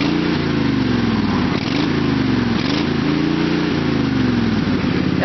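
A Green Machine's small engine revs steadily on its hand throttle, a loud, continuous buzzing drone close by with slight dips and rises in pitch, no talking.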